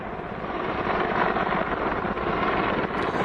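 Combat attack helicopter droning steadily nearby, a loud continuous rotor and engine roar with wind buffeting throughout and no pauses.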